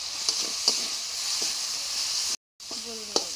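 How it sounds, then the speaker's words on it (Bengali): Spice paste with turmeric and chili powder sautéing in a pan, a steady close sizzle with a few light scraping stirs and a brief cut-out, a faint voice near the end. "মশলাটা ভালো করে কষিয়ে নিচ্ছি"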